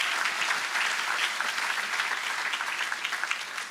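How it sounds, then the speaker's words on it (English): A crowd applauds steadily at a ribbon-cutting ceremony for a student-athlete performance center, the dense clapping loud and continuous throughout with no talk over it. "So let's give them a round of applause for their great leadership."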